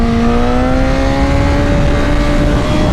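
A stock Honda CBR 1000 motorcycle accelerating hard, its loud engine whine climbing steadily in pitch over a few seconds under heavy wind rush, close and continuous.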